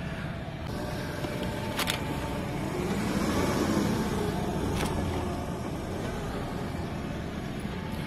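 A Renault Kwid hatchback drives over potholes, giving a steady broad road and engine rumble with a couple of sharp knocks from the suspension, close and loud, with no talk.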